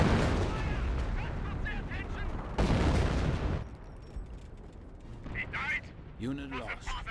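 Artillery barrage in Company of Heroes, a World War II strategy game, heavy booming impacts and rumbling blasts strongest early, then fading to scattered explosions and game sounds with a voice speaking.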